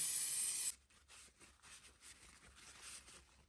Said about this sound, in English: grab some electronic circuit board cleaner and just spray them clean